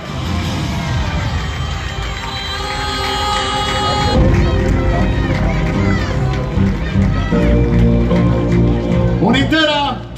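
A large crowd cheers and roars at a football club's official season presentation in Naples, a continuous loud wash of voices with music playing underneath and an announcer talking over it.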